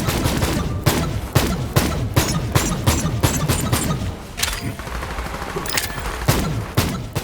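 Rapid gunfire from a Borderlands 3 video game weapon: dense, loud bursts of shots with sharp repeated cracks and booms across the whole stretch, briefly easing midway before firing resumes.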